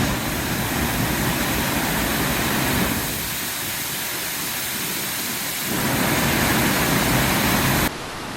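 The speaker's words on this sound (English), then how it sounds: "I might have to adjust the sound levels with how loud this waterfall is going to be." Waterfall heard from a distance, a constant dense rushing hiss that dips in level partway through and then returns, with no voices.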